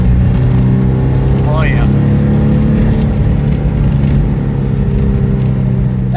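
A Porsche 914 Chalon's engine runs with a steady loud drone and a mid-pitched hum, while a voice briefly exclaims over it.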